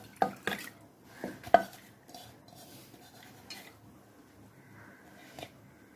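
Soaked toor dal goes into a pressure cooker, heard as a few close metallic clinks and clanks of a spoon against the pot, separated by quiet pauses.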